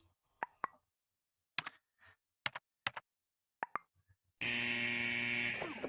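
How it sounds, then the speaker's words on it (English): A Rec Room game buzzer for a wrong password blares loud and steady near the end, after a run of sparse clicks and taps from typing. "And there we go, the buzzer works."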